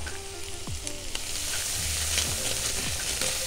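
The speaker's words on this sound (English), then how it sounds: "We'll fry the bacon first, because then you'll get the lovely pan juices to roast the sprouts in" Bacon fries in a pan for roasting Brussels sprouts, giving a loud steady sizzle and crackle with faint clinks of a utensil stirring, close and continuous.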